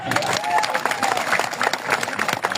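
A large crowd at an outdoor rally of outsourcing workers in Bangladesh claps together in a dense, steady burst of applause, with some voices mixed in.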